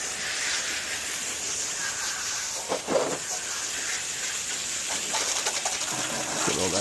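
Steady broadband hiss of a high-pressure hose rinsing an AC unit, continuous and fairly close, with a brief splashing burst partway through.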